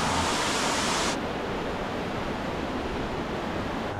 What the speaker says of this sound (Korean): 폭포가 엄청 세요.